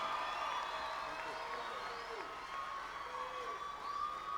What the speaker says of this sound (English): Let's give a warm applause to Mr. Lou Correa.